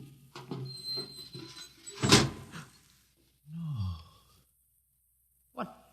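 Door opening in an old radio drama: a loud creaking swing and thunk following some shuffling, then a short sliding scrape and a final knock, with no voices over it.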